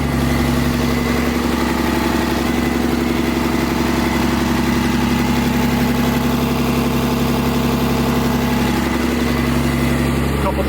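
A car engine with a possible blown head gasket holds a steady high idle, loud and close with an even, continuous drone from start to finish.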